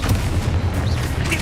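A Confringo fire spell in Hogwarts Legacy bursts with a low, booming blast, followed by a rumbling tail and faint crackling, moderately loud and alone.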